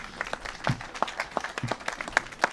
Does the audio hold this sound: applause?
yes